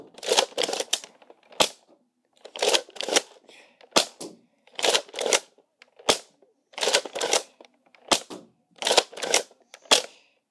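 A Nerf Deploy CS-6 blaster fires darts in about six separate shots, evenly spaced. Each shot is a short whooshing burst that ends in a sharp plastic snap, loud and close, with no talking.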